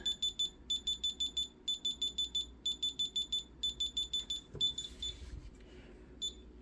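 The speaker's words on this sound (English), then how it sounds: "It'll also give us a beep every time it updates" A shrill electronic beeper sounds in rapid bursts of short tones, repeating steadily, then breaks off amid handling noise before one last brief beep.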